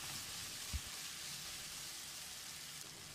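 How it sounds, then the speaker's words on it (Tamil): Tomato and chili masala sautéed and stirred in a pan for Kerala-style kadala curry, giving a steady, close frying sizzle with one brief low knock of the spoon early on. "ஒரு 10-15 செகண்ட் இதை நல்லா பிரட்டி விட்டுடலாம்."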